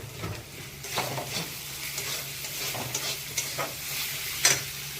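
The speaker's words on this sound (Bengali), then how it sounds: "একটু হলুদ দেবো অল্প করেই দেবো হলুদটা এটা মশলাটা কষিয়ে নিই" Spices with a little turmeric being sautéed and stirred in a pan, steady sizzling under repeated scraping and clacking strokes of a spatula, with one sharper clink near the end.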